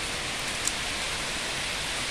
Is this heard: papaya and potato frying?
no